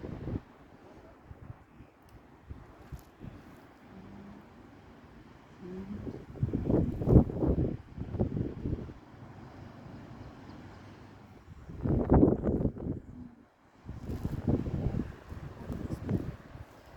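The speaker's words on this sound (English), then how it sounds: "It's kind of tough out here because it's a little bit windy today." Wind gusts buffet the microphone outdoors, rumbling low and rising in several louder bursts.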